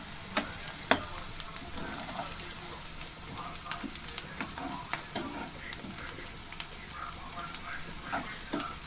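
Onions with turmeric sizzle quietly in a pan for chicken curry while a spoon stirs, giving soft frying hiss punctuated by irregular scraping clicks and taps against the pan.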